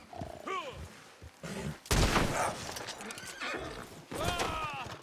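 A horse in the video game Red Dead Redemption 2 whinnies several times with clip-clopping hooves, cut through by bursts of gunfire, while a voice talks over it.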